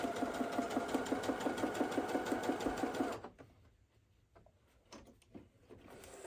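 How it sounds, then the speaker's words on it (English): A sewing machine stitches a short test run on scrap fabric, giving a fast, even mechanical chatter for about three seconds. It then stops, leaving quiet handling noises. "You don't need to sew a lot, just a little."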